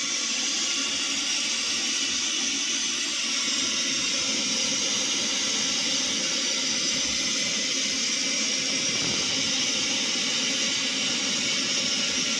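A gas stove burner turned up to full under a pot of carrot halwa with milk and mawa gives a steady, loud roaring hiss that runs unbroken throughout, with no voices.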